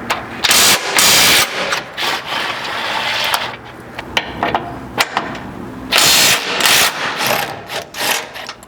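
A ratchet fitted with a 21mm socket loosens bumper bolts on a Chevy Colorado, rapid close clicking in bursts of cranking with brief pauses and some metallic rubbing between strokes.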